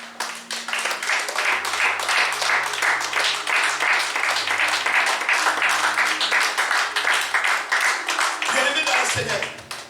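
A church congregation applauds together in steady, sustained clapping that fills the space for nearly ten seconds before tapering off, with a low voice or music underneath.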